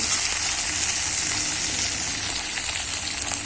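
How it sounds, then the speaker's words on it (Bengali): Okra and green chillies fry together in a pan of hot oil, a loud, close, continuous sizzle with fine crackling spatter throughout. "লঙ্কা দিয়ে দিয়েছি কিছু, একসাথে ভেজে নেবো সব কিছুকে"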